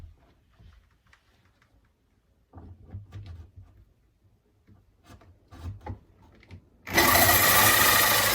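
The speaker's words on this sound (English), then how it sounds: "the hole saw is actually doing a pretty good job at not chipping it" A hole saw cuts into a fiberglass boat panel, with intermittent grinding and rubbing bursts, then a sudden loud continuous rasping whir near the end.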